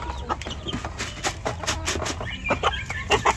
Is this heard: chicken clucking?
yes